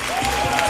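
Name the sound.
applause for the chairman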